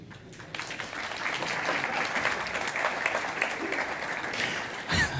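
Audience at a Java conference talk on app servers bursting into applause after a brief pause, a steady wash of clapping lasting several seconds before it stops abruptly.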